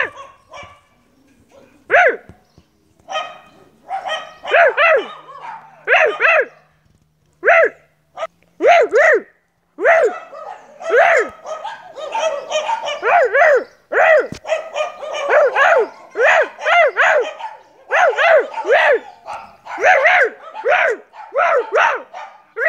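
Dogs bark repeatedly in quick, uneven bursts, close and loud, with occasional whimpers between barks.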